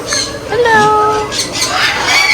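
Parrots calling at a bird park in Pigeon Forge, Tennessee, their harsh squawks and whistled tones rising over steady crowd murmur, with a person speaking nearby.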